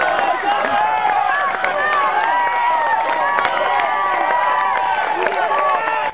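At the Angeles Crest 100 ultramarathon finish line, a crowd cheers and claps continuously with scattered shouts and whoops, a dense, steady wash of noise.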